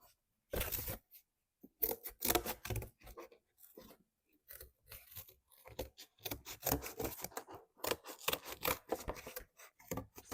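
Scissors snip through upholstery quilting batting in irregular bursts of close, soft crunching cuts with brief pauses between strokes, nearly continuous in the second half.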